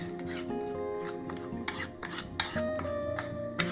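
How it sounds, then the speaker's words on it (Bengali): A spoon scrapes and rubs quickly in a small bowl as coriander powder is stirred into water. The close, rasping strokes come with a few light clinks. "এইবারে এই যে ধনেটা, এটা জল দিয়ে গুলে নেব।"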